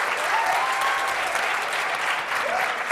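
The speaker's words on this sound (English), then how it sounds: "Let's give them a round of applause." A conference audience applauds the organizers. Dense, loud applause runs for the full three seconds with a few faint voices mixed in.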